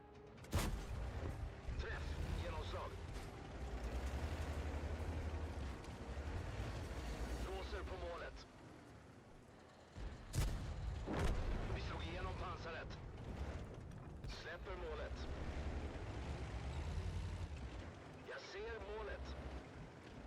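Tank cannons boom in World of Tanks gameplay, sharp loud blasts at intervals over rumbling engine and mechanical game noise, with players talking throughout.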